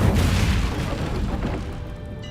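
The Incendio fire spell in Hogwarts Legacy bursts with a deep booming whoosh, loud at the start and tapering off into a fading rumble.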